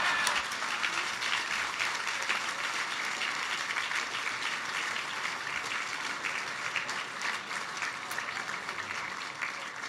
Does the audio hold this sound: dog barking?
no